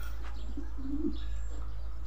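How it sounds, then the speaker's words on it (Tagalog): Pigeons cooing softly in a loft in La Paz, Tarlac, a few low burbling coos close by over a steady background hum. "Ito mga kalapatids."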